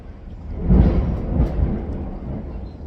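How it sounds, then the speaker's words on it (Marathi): Thunder rumbling through a heavy monsoon rainstorm in Rajapur, deep rolling peaks swelling twice over a steady wash of pouring rain, with no voices. "विजांचा मोठमोठ्याने कडकडाट होतो आहे ढगांचा गडगडाट होतो आहे"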